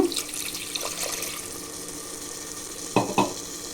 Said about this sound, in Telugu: వేగింది కాబట్టి మనము కొంచెము నీళ్ళు వేసుకుందాము.